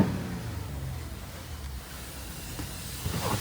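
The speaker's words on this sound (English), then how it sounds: "let me see if y'all can hear the intake I put on" A 2024 Toyota Camry XSE V6 with an aftermarket intake idles on a cold day, giving a soft, steady suction hiss over a low engine rumble. The sound stays fairly quiet throughout, with slight swells near the end.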